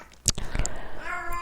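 A pet cat gives a short meow close by while someone talks indoors during a recording, the cry rising briefly over his voice.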